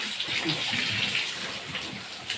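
Hose water gushing steadily and loudly while pigs are bathed in their pen, a continuous close spray with a voice faintly underneath.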